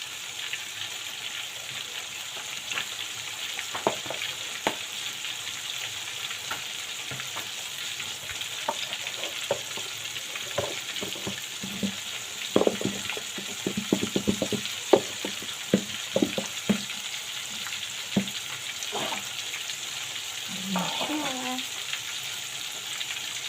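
Chicken fries in a pan with a steady quiet hiss of oil, broken by scattered crackles and pops and a few louder bursts as pieces are moved, while a voice speaks briefly.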